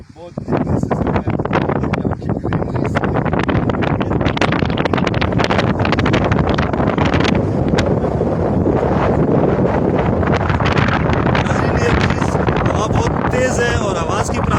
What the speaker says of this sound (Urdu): تیز ہے اور آواز کی پرابلم نظر آ رہی ہے، تو ساحل پر اتنی تیز ہوا میں ہے